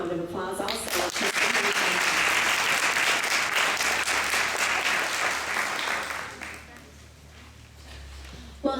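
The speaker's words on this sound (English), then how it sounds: "I would just like to give him a round of applause also." Sustained audience applause at an elementary school gathering, loud and dense for several seconds before thinning out toward the end.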